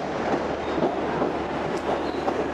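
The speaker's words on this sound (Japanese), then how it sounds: "11時30分、グランドセントラル行きの電車到着。" New York subway train rumbles into a station, bound for Grand Central, with steady heavy wheel and carriage noise close by and faint squeals over the rolling din.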